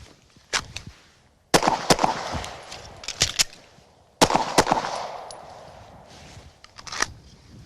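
Pistol shots ring out after a draw from under a cover garment, a few sharp, loud cracks in separated bursts with quieter gaps and brief echo between them.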